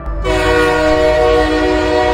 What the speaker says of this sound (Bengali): এমন সময় ট্রেনের হর্ন বেজে ওঠে।